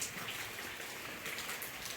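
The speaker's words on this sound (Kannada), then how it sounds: "ಮಳೆ ಮಳೆ ಮಳೆ" Soft rain patters in the background, light and even, with a brief louder bump at the very end.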